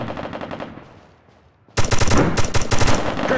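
Automatic weapon fire in the video game America's Army Proving Grounds, a loud rapid burst of close gunshots cutting in sharply after a fading stretch of quieter game sound.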